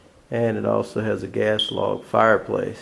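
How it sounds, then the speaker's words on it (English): A smoke alarm's single short, high electronic low-battery chirp sounds briefly while a person keeps talking over it. "That chirping sound you hear is the smoke alarm, and that means the battery has to be changed."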